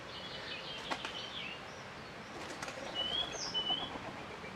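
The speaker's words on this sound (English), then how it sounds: "Pigeon." A pigeon's wings flap in a few soft bursts in a quiet outdoor garden, faint against steady background hiss, with a brief chirp near the end.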